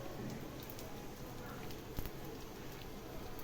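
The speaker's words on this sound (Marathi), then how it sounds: "मोहरी पण चांगली तडतडली की आपल्याला त्याच्यामध्ये जिरं टाकायचं" Mustard seeds and curry leaves crackle and spit in hot oil, a soft, steady sizzle with scattered pops, fairly quiet throughout.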